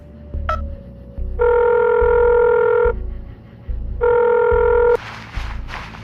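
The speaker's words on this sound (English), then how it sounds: "I pulled out my phone and called Detective Wright." A telephone rings out in two long electronic bursts separated by a pause, loud and close, preceded by a brief dial tone and followed by a click as the call connects.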